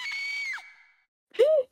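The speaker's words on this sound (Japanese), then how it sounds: "階下から悲鳴が聞こえてきた。" A scream rings out from downstairs in the Kamaitachi no Yoru video game: a sustained high cry that bends downward and fades, then after a brief silence a second short, rising-and-falling shriek.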